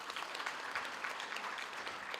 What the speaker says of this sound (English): Can you give them a round of applause to all those leaders?